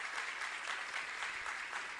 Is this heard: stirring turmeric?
no